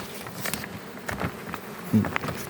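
Honey bees buzz around an opened hive at an apiary moved onto a sunflower field, a soft hum running steadily throughout with a few louder passes as bees fly close, no talk.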